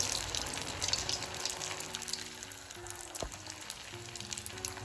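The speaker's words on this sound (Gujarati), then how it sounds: "ટિક્કી છે એને આપણે ગોલ્ડન બ્રાઉન રંગની ફ્રાય કરીશું।" Sabudana tikki frying in hot oil until golden brown: a steady, close crackling sizzle with faint bubbling and a brief utensil clink, no voices.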